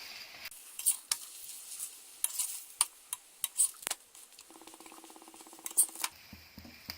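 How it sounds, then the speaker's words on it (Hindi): A Punjabi-style pickle paratha fries in oil on a flat pan. Faint, scattered clicks and light scraping taps from the pan come in irregular bursts, with a soft sizzle underneath and no voices. "साइड पलटी करेंगे और दूसरी तरफ भी ऑयल डालेंगे। गैस को बीच बीच में मीडियम लो अपने हिसाब से करते रहेंगे और पराठे को सब तरफ से सेक लेंगे।"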